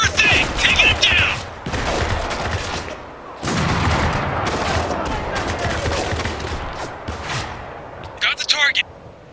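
Heavy bursts of automatic gunfire and rapid volleys fill a Spec Ops: The Line firefight, loud and near, with shouted voices mixed in over the shooting.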